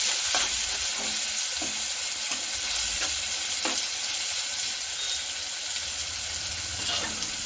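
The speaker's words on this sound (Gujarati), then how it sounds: "થોડો ચપટી જેટલો ગરમ મસાલો એડ કરીશું હવે તેને સારી રીતે આપણે મિક્સ કરી લઈશું" Garam masala and garlic-chilli paste being stirred in a hot pan for Kathiawadi urad dal, with a steady sizzle under repeated spoon scrapes, close and continuous with no talk.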